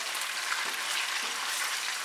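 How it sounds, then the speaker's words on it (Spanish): Tuna frying in olive oil over high heat in a shallow pan, a steady dense sizzle with fine crackling pops, close and continuous throughout with no voices. "el fuego está alto estoy friendo con aceite de oliva"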